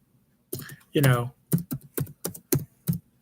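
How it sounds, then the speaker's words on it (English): Someone types on a computer keyboard with a scattered run of crisp, close key clicks, while someone talks over the typing. "So I'm going to try and type and talk."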